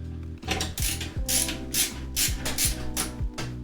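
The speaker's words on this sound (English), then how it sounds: "we just go back and forth, tightening a little bit at a time so that it applies even pressure across the whole CPU" Ratcheting screwdriver tightening CPU cooler screws during a PC build, a series of close, crisp mechanical clicks in repeated short strokes with a steady rhythm.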